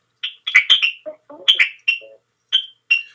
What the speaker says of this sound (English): get your bird off the phone, brother